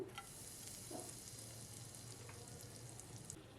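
A pinch of asafoetida dropped into hot white oil, a faint steady sizzle with a couple of soft clinks near the start, no talk.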